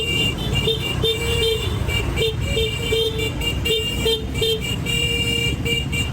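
Road traffic from a convoy of more than ten vehicles, with repeated car horn toots and honks sounding in short and sustained blasts over a steady engine and crowd din.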